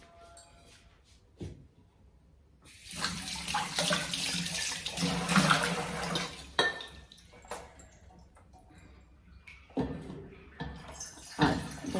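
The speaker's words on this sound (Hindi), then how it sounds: "इसमें पानी भर लेती हूँ।" Water gushes from a tap into a metal lota, a steady rushing pour lasting a few seconds, followed by clanks and knocks of the pot handled near a sink.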